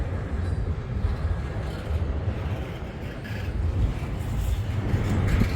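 A long CSX intermodal freight train passes nearby with a steady rumbling roar that swells slightly toward the end, with no talking over it.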